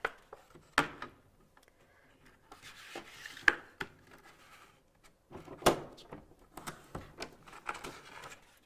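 Vinyl sheet being trimmed for a Cricut craft project with a sliding trimmer, quiet scraping strokes and sharp clicks, scattered irregular taps and rubs close by, faint overall.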